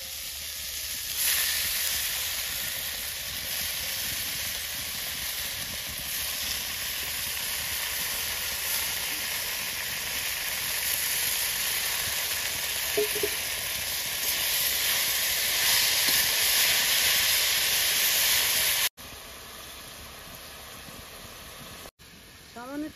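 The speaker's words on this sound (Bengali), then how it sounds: "সবজিগুলো ভাজা ভাজা হয়ে গেছে, এবার শাকগুলো দিয়ে দেবো।" Fried vegetables with green chilli, salt and turmeric sizzle and hiss steadily in a pan as spinach greens are added, a constant close frying noise with a few brief clicks near the end.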